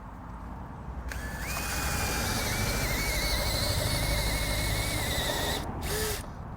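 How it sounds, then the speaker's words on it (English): A power drill with a Forstner bit bores into wood, making a steady, loud, close grinding whine that runs for about five seconds, ending with a short stop and restart. "I'm using a Forstner bit because it gives you a nice clean hole, nice clean edge"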